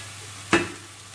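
Two eggs drop straight into a hot pan, landing with one sudden sharp sizzle that flares up and then settles to a faint crackle close by.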